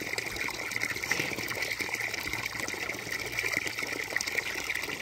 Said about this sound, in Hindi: तो पानी निकला गर्म पानी तो ट्यूबवेल में आता है